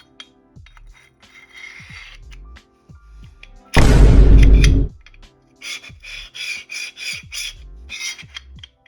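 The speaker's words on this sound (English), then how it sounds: "this is a good time to test frame fitment, to see how well the slide fits onto the gun" A metal slide is worked onto the frame of a Hi-Capa airsoft pistol: repeated short scraping rubs, one long loud grinding slide in the middle, then a run of quick, close rasping strokes.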